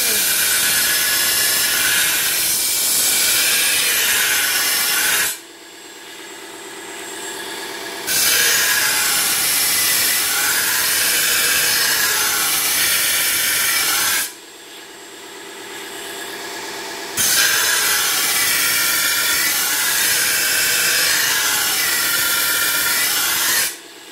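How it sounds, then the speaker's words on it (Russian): A shovel blade sharpened on an ADEMS Tesar sharpening machine running at 1200 rpm, a loud continuous grinding whine in long stretches, broken by two short quieter pauses while the shovel is turned over. "лопату мы берем в руки. То есть, я ставлю обороты 1200"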